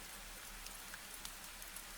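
Rain falls over an old garden in the evening, a faint, even patter with scattered soft drops tapping through a quiet background, and no one speaking.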